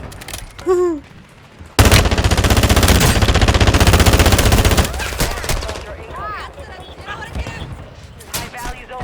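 A rapid-firing AR rifle in Call of Duty Warzone 2.0 lets out one loud, dense burst of automatic shots lasting about three seconds. Someone talks excitedly before and after the burst.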